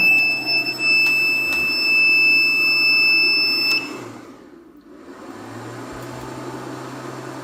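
A steady high-pitched warning buzzer from an ESC300S power inverter with built-in charger beeps continuously for several seconds, then cuts off, leaving a low hum that returns afterward.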